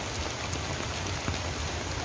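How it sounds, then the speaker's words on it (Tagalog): Heavy rain pours steadily at an outdoor park in Singapore, a dense, even hiss of drops on surfaces and umbrellas, close and continuous with no voices. "umuulan na lang ng malakas"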